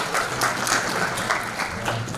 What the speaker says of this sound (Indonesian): kita tepuk tangan dulu untuk Pak Saad